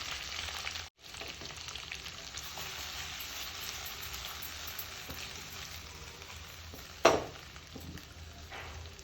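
Brinjal pieces with spices in a little oil, cooked as an Andhra masala vankaya without onion or garlic, give a quiet, steady sizzling hiss, broken by one sharp clatter near the end.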